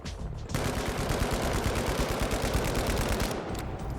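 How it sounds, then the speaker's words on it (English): Sustained automatic fire from an FCAR rifle aimed at a wall in a video game, one rapid unbroken burst of close, loud shots lasting about three seconds before it cuts off. "we're just going to shoot at this wall"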